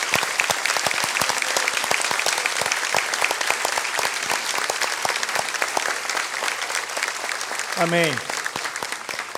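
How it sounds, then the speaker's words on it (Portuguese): A church congregation claps steadily and warmly during a service, sustained applause filling the room while a voice briefly calls out over it. "agradecer com uma forte salva de palmas a vocês"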